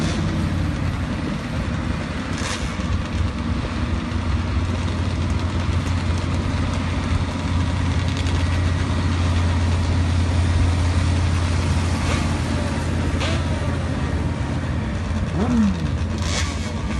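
Pro drag racing motorcycles idle at the starting line, a dense, steady low engine rumble with a droning hum and scattered higher mechanical whines and rattles over a constant noisy background.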